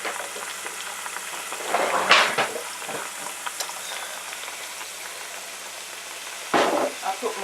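Plantain fries in hot oil with a steady broadband sizzle, broken by two louder bursts of spatula scraping and turning as the pieces are flipped, close up and with no talking.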